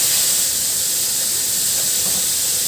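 Steady, loud sizzling and crackling of bananas frying in hot oil in a pan, a continuous bright hiss with no talking.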